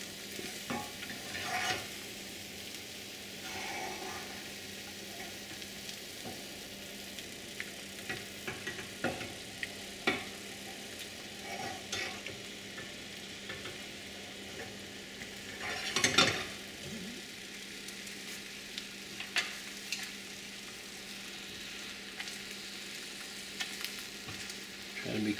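Eggs cooking in a pan for Korean rice cake soup, a soft sizzle underneath scattered clicks and clanks of utensils, with one louder knock midway and brief faint voice.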